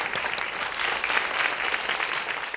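An audience claps steadily and densely, warm sustained applause filling a hall to welcome jury members, a group of veteran actresses, onto the stage at an awards show.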